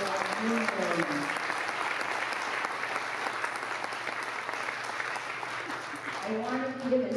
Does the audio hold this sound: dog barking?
no